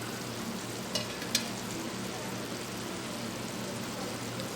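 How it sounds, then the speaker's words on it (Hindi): Mutton liver sautéing in a pan gives a steady, moderate sizzle and crackle throughout, with a couple of sharp clinks partway through as it is stirred. "3 से 4 मिनट हम इसकी करेंगे अच्छे से भुनाई"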